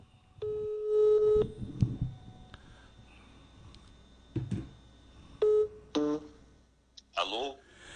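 A telephone call placed for a radio interview: dialing tones, then spaced electronic ringing tones and clicks, with someone speaking between rings.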